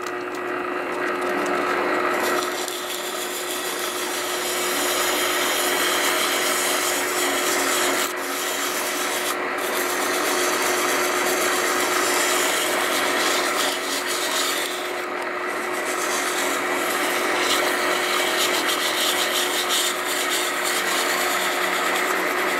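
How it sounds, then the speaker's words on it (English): Brass hammer head from a lathe project being sanded by hand with 100 grit sandpaper, a steady, continuous scratchy rubbing that runs throughout at close range, with brief pauses in the stroke. "What I'm going to do now is just sand the surface, get it nice and clean."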